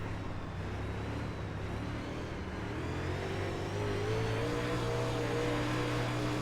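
UMP modified race cars in iRacing at the Williams Grove dirt track, engines droning at a steady high rev with slowly rising pitch, loud and continuous, with no voices.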